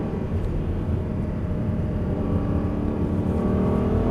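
A car engine in fourth gear hums steadily and builds gradually in pitch and loudness as it accelerates, close and continuous with no talking.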